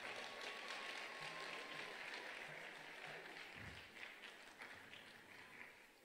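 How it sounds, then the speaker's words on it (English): Applause from the audience at a Seattle crowning ceremony, a dense, steady wash of many hands clapping for about six seconds, fairly distant and gradually thinning toward the end. "y'all can clap for that"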